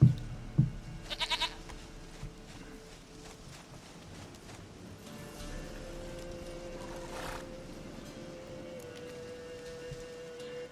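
A goat bleats in The Witcher 3: Wild Hunt, with a few short bleats near the start among hoof clops and other game noises, then quieter ambient sound under light background music.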